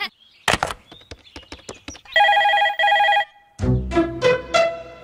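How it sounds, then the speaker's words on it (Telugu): A telephone rings in two loud electronic trill bursts after a few sharp knocks, followed by a brighter chiming tone, with quiet gaps in between. "రింగ్ అవుతుందిరా."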